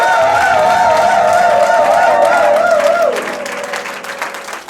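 A church congregation applauds and cheers for the Lord, a dense wash of clapping with a sustained sung or organ tone over it that fades partway through.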